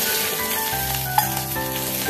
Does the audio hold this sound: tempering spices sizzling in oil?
yes